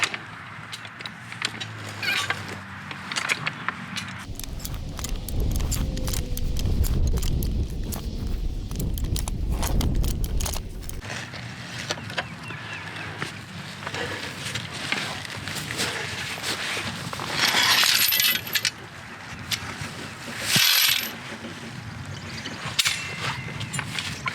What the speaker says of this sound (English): Give it a few wraps to hold it in place, and then just ratchet it up out of the ground slowly.